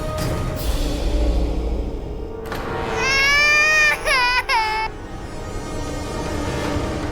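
A baby girl cries in a few rising, wavering wails over a couple of seconds, somewhat distant amid background rumble and room noise.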